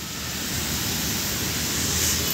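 Fast-flowing water rushes steadily along an outdoor stretch near India Gate, a dense, loud, unbroken roar with no talk over it.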